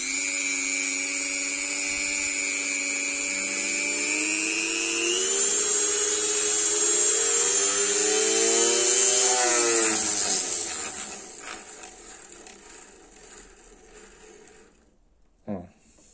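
Gyroscope model spinning on ball bearings, a close high whirring whine with shifting tones that slows and drops in pitch, fading away near the end with a brief knock.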